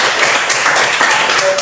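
Audience clapping in a classroom-style gathering, a dense patter of many hands sustained for a brief moment at steady loudness, with voices murmuring underneath.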